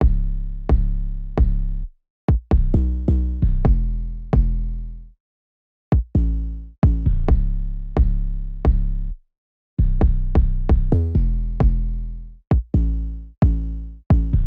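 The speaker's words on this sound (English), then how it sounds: "the kick and the 808 together sound like this" A trap beat's kick drum layered with an 808 bass, booming deep hits in a syncopated pattern, each decaying tail sustained, with brief gaps of silence between phrases, loud and alone.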